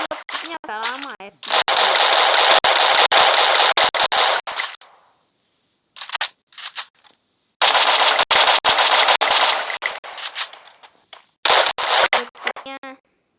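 In the Free Fire video game, loud bursts of rapid automatic machine gun fire come in long sustained volleys separated by brief silences, with a few short clipped bursts in between.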